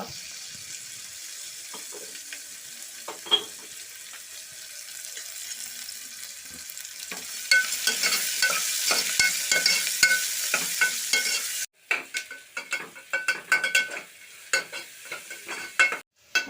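Onions sautéing with salt in a pan, a steady sizzle broken by clattering stirs and scrapes of a spoon against the pan, growing louder and choppier partway through, close up, with no voices.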